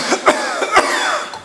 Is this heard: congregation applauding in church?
no